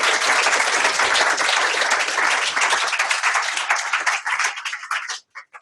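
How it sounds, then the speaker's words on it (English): Dense audience applause after an academic talk on sea level rise projections, loud and steady clapping that thins into scattered claps and dies out at the end. "So another round of applause for you."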